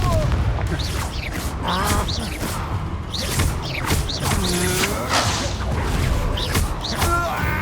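Hogwarts Legacy duel with Confringo blasting spells: rapid whooshing, crackling magical bursts and impacts pile up densely and loudly throughout, layered with game effects and some vocal sounds.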